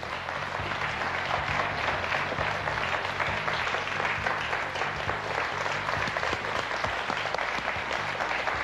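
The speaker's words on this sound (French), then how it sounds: "Vous avez raison de vous lever pour l'applaudir, c'est génial." A studio audience at a television quiz show rises in a standing ovation, giving loud, dense, sustained applause that stays strong and even throughout, with faint voices mixed in.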